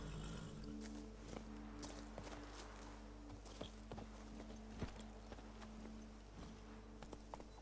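Horse hooves clip-clopping at a walk while riding in The Witcher 3 video game, soft irregular thuds over a low steady background hum, faint and distant.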